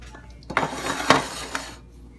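Ceramic burr coffee grinder with its bottom being unscrewed, giving a short burst of close scraping and clinking with a few sharp ticks and knocks, then quiet.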